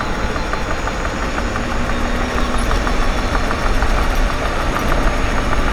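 A failing electric bike hub motor runs with a steady, rough mechanical drone and faint rhythmic knocking, close and continuous without any talk.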